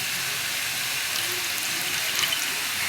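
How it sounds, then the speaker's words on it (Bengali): Water pours steadily into ground spices of salt, turmeric and cumin to make a paste, a continuous close hissing splash without pause for the whole stretch, fairly loud. "জল দিয়ে দিচ্ছি,"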